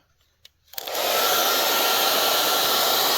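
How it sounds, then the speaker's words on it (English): Heat gun melting solder on F-150 wiring: a click, then a sudden loud, steady blowing whoosh that starts up and holds on evenly, close by with no talk. "We'll heat that up until that solder melts."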